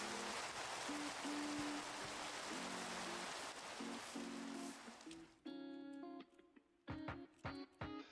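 Rain falls in the Minecraft video game as a steady hiss for about five seconds, then fades out while tonal in-game sounds and effects take over.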